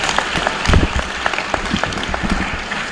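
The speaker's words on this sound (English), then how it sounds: "Let's give him a round of applause again." Audience at the Malawi College of Accountancy 2025 graduation ceremony claps in a dense, steady round of applause, with sharper bursts of hand claps standing out now and then across the hall.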